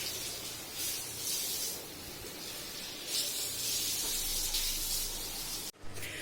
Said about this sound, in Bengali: এই কলাপাতা আমরা প্রত্যেক বছর নববর্ষের দিন খাই, মানে ভালো লাগে, বাঙালি বাঙালি ফিল আসে। তো এগুলোকে এখন ধোয়া হবে।